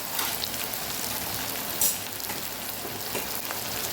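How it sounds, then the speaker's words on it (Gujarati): Bottle gourd and potato curry with tomato, salt, sugar and green coriander sizzles and fries with spices in a pan, a dense, continuous crackle with small pops, close and fairly soft, no talking. "હવે આપણે શાકને મસાલા સાથે સરસ સાતળી લેવાનું છે"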